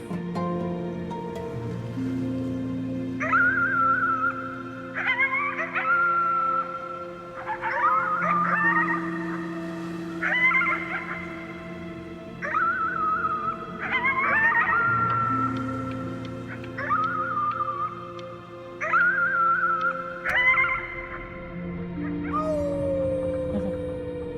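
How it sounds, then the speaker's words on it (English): Wolf-like howling from the video game Before Your Eyes: a chain of rising and falling tonal howls, moderately loud and close, over a sustained low musical drone. "You howled at the moon, at the top of your lungs."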